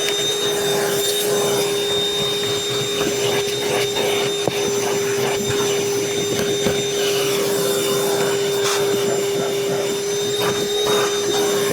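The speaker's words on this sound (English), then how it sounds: "right now I'm pushing the vacuum back with my leg" A Ryobi 18V cordless project vacuum drones steadily and loudly with a high whine, running unbroken throughout with faint bumps and scrapes as it is pushed along.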